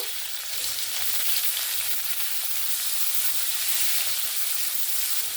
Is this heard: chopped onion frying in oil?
yes